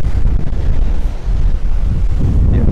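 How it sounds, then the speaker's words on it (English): Strong coastal wind buffets the microphone at the seaside in Sitges near Barcelona, a loud continuous roar with waves washing in underneath. "Very windy out here."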